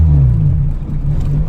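A turbocharged Integra GSR with a B18C1 engine drives at low speed toward a shop lift, giving a loud, close, steady low rumble that dips slightly midway, with no clear talk.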